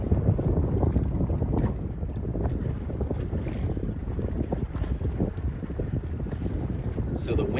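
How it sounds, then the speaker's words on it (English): Strong wind buffets the microphone while sailing a C420 dinghy upwind in a regatta, a steady loud roar with gusty rumble and faint water splashing beneath, no talking. "So the wind is a little bit stronger today"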